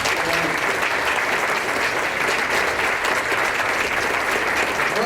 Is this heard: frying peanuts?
no